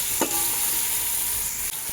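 Carrots and beans fry in hot oil for soybean pulao, a steady close sizzle with a few soft scrapes of a stirring spoon against the pan, no voices.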